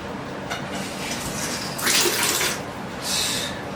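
Water runs and splashes into a bucket from a wet pipe, a steady gushing patter with two louder surges partway through, close by and with no talking.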